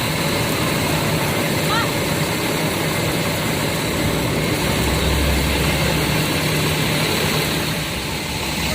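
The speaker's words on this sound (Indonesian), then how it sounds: "Oh, ini ternyata busnya baru sampai ya teman-teman ya." A Rosalia Indah bus pulling into a parking lot, its engine a steady loud drone that rumbles on throughout with no break.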